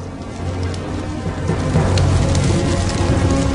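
Steady rain hisses loudly and continuously, with a low rumble underneath.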